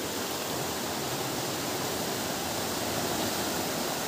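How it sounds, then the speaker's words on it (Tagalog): Rushing, swirling river water fills the scene as a loud, steady roar with no breaks and no voices. "Umiikot yung tubig, no."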